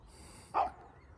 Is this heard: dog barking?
yes